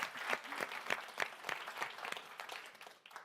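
An audience claps, a burst of steady applause with sharp individual claps, moderately close and lasting a few seconds.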